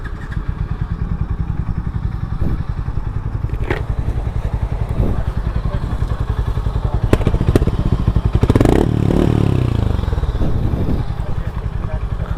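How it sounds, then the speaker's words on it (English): A Harley-Davidson X440 motorcycle idles at a traffic light, its exhaust giving a steady, close, pulsing thrum with a few clunks and a brief swell in loudness partway through, and no voices. "let's listen to the exhaust once"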